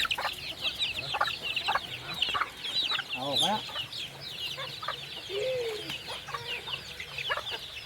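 Chickens clucking near a small fish pond farm, repeated short calls scattered throughout, mixed with other birds chirping and a brief rising call, with people talking faintly at times.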